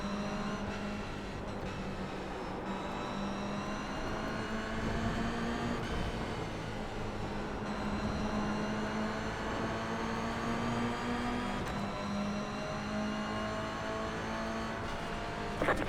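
Toyota GR86 race cars lap Okayama in the iRacing video game, with a steady engine drone rising and falling through gear changes and nearby cars passing, loud and continuous without talk.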